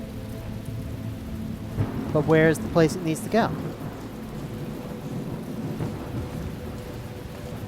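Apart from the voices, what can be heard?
rain and thunder in video game The Talos Principle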